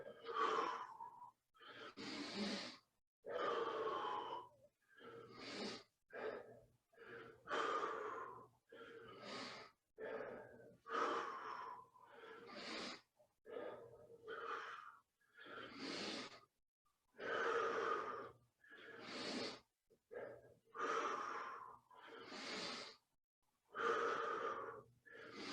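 Heavy, rhythmic breathing accompanies kettlebell good mornings, with about twenty loud, close inhales and exhales in a steady cycle.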